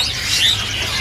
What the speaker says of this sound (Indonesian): Itu jalak suran jajaran.